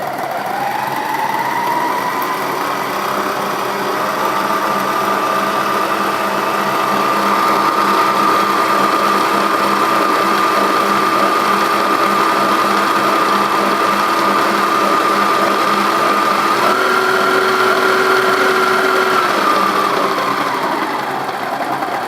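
An old Kenwood A701A food mixer motor runs continuously with a whirring, slightly rattly hum, its pitch shifting as the speed is varied, rising briefly near the end before settling; no voices.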